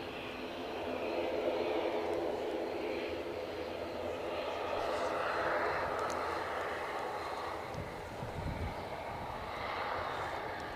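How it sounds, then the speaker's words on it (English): Aer Lingus ATR turboprop taxiing onto the active runway at Edinburgh Airport in a storm, heard as a continuous, moderately distant engine drone blended with wind rush, fairly steady throughout. "just taking the active runway, we have an Aer Lingus ATR that is either going to Belfast or Dublin."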